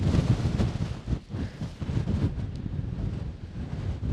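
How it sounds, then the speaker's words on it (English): Gusty wind roars across the microphone on Caherconree mountain on the Dingle Peninsula, Ireland, rising and dipping in strong buffeting swells with no voices. "The wind is swirling. It's coming from behind me and coming from in front of me."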